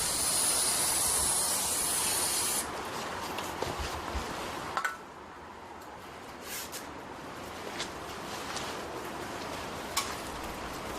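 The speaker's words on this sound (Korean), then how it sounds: "보조자는 주변에 있는 벌로부터 작업자를 보호하기 위해 벌 제거 스프레이를 주변에 분사시켜줍니다." Bee removal spray is discharged around a hive during nest removal, a loud continuous hiss for the first few seconds, then quieter handling noise with scattered clicks.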